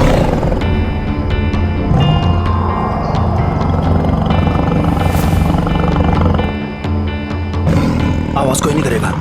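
A tiger roars in a jungle, a low rumbling growl running under busy, noisy background with people talking over it throughout.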